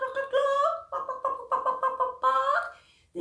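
A person's voice imitates a chicken clucking, producing a run of rhythmic, nasal bawks and clucks in short bursts, close and clear with no other talk.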